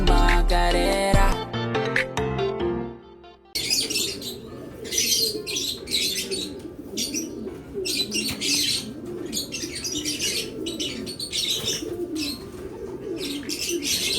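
Pigeons cooing in a loft, soft repeated coos and chirps with bursts of flapping wings, after a short stretch of music at the start.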